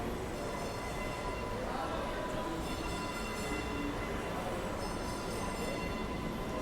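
An old subway train runs steadily throughout, a continuous broadband rumble and rattle with a faint high whine, moderately loud and unbroken, with no talk over it.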